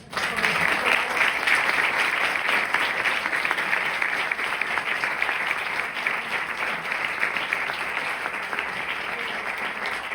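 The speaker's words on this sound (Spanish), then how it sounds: "por favor un aplauso para ellos" Sustained applause from an audience closing the fourth edition of the Alma de Nuestra Tierra event in Salamanca, a dense even clatter of many hands clapping steadily for about ten seconds.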